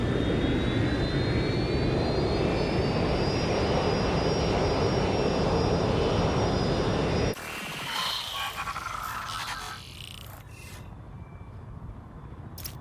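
A jet airliner flies and comes in to land in the video game Watch Dogs Legion, a loud steady engine roar with a high whine that cuts off abruptly and gives way to quieter rumbling.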